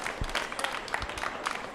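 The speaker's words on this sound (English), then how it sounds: "Let's give a big round of applause to Vangie Williams" Brief burst of audience applause at an outdoor family potluck picnic, scattered claps close and moderately loud with a little crowd murmur.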